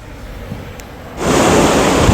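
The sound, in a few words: wind blowing into phone microphone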